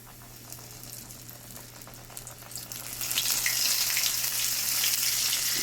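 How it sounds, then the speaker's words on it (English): Shrimp dropped into hot oil at home: a steady sizzle builds and swells sharply about halfway through as the frying grows loud and close, with no talking. "now that the oil is heated, I'm going to be placing them in the oil"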